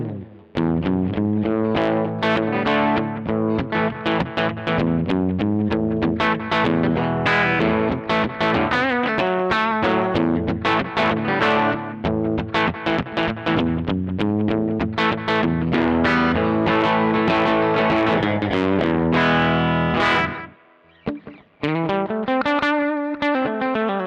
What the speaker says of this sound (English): the third preset I set up was a slapback